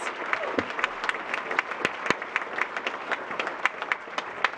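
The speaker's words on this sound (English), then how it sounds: "let's give another warm round of applause to all our police service awardees" Audience applause at a Lions council police and fire awards ceremony, saluting police service awardees: a dense, steady round of hand clapping with sharp individual claps standing out, sustained throughout at moderate loudness.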